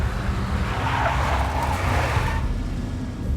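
A big black Mercedes skids with a sustained tire squeal in the video game Max Payne, a loud continuous screech over engine roar that fades out near the end, with no voices.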